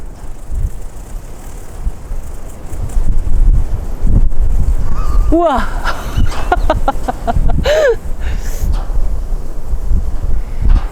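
Strong countryside wind gusting steadily in an open rural setting, rumbling low and buffeting the microphone, with a rooster-like call and a brief exclamation from a person partway through.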